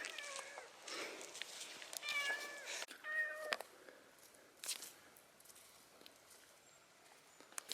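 A cat meows several times in short, rising calls, fairly near and quiet, during a nature hike at the Virginia Kendall ledges, with soft rustling and footsteps between the calls.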